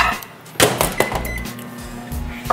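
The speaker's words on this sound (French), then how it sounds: "ça s'en va au micro-ondes pour faire fondre" A microwave oven melts dark chocolate with a spoonful of butter in a mug: a few sharp clunks from the door and buttons, then a low steady electrical hum starts and runs on.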